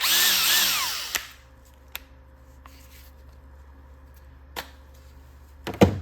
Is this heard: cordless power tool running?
yes